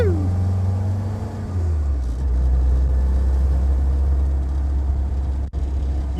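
A WW2 Jeep engine drones steadily while driving, a loud, continuous low rumble that shifts pitch slightly as it changes speed, close to the listener throughout.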